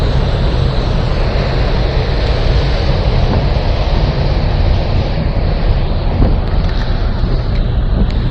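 Engine of the 2Go MV St. Michael the Archangel passenger ferry on the Manila to Dumaguete route, a loud, steady broadband rumble with constant low droning, heard close up with wind-like noise and no break.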